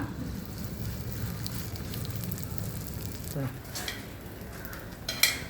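Ragi adai frying in a little oil on a pan, a soft, steady sizzle under quiet kitchen noise, with a few light clinks of utensils toward the end.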